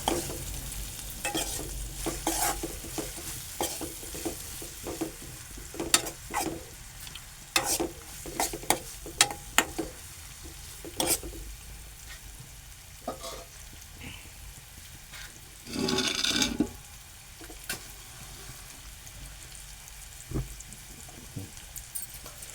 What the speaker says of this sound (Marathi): चांगलं परतून घेऊ.